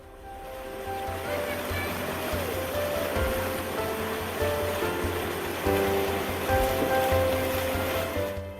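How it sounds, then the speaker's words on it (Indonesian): Fast current of the Nanga GT river, a steady broadband rush of water that stays fairly loud throughout, with a voice talking over it. "Puluhan siswa SD ini menyeberangi derasnya arus Sungai Nanga GT untuk bersekolah."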